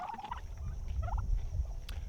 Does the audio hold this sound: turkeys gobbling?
yes